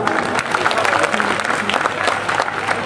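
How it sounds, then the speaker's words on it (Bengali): An audience claps for a West Bengal state minister at a political meeting, a dense, even burst of applause throughout, loud and close, with a voice faintly under it. "আমি সবাইকে বলবো অরূপদার জন্য একটা করতালি দিয়ে অভিনন্দন জানাবে।"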